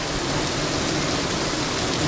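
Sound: heavy rain pouring outside

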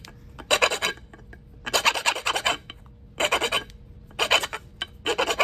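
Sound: flint knapping, shaping a Clovis biface from a core

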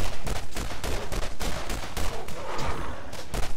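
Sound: pistol gunfire in Borderlands video game

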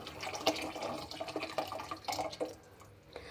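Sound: pouring soaked tamarind water

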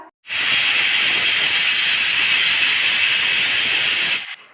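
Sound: pressure cooker whistle releasing steam while cooking moong dal khichdi

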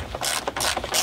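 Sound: ratchet tightening bolts on BMW N52 oil filter housing

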